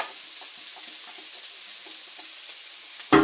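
Chopped red onion sizzles steadily in a hot pan for fig-bacon jam, a continuous close hiss with faint stirring taps, ending in a sharp knock from the pan or utensil.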